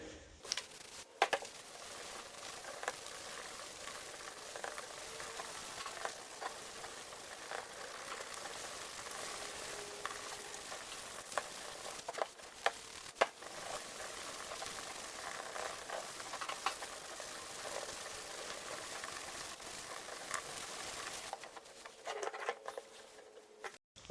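An oxidized car headlight is wet-sanded with 2000-grit sandpaper, a long, steady, faint wet scrubbing and patter of back-and-forth strokes, heard close and alone.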